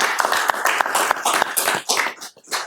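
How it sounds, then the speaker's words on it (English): Audience at a city council meeting breaking into brief, lively clapping, a quick burst of overlapping hand claps close by. "Let's get him a clap"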